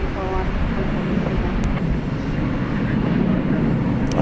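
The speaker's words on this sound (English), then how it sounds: "A FedEx MD-11" FedEx MD-11 airliner, a constant loud engine rumble and rush at Dallas-Fort Worth airport, with a voice talking over it and a couple of sharp ticks.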